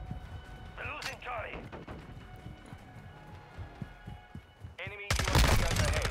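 Bursts of automatic gunfire and sharp shots ring out in Modern Warfare 2 (2022), with clustered cracks near the end over game sounds and footsteps, while a player talks.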